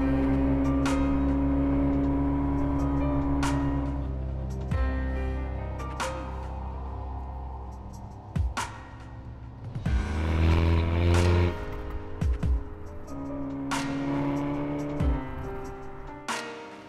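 The turbocharged engine of a Ferrari California T hums and rumbles continuously while driving, with gear changes and swells of revving as it accelerates, heard from close by throughout.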